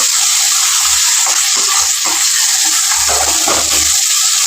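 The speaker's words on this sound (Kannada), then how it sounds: "ಎಣ್ಣೆಯಲ್ಲೇ ಫ್ರೈ ಮಾಡ್ಕೋಬೇಕು ರುಬ್ಬಿರುವಂಥ ಮೆಣಸಿನ್ಕಾಯಿ" Ground green chilli paste frying in hot oil for poha upma, a loud, dense, steady hiss with a few soft low bumps from stirring, close and without voices.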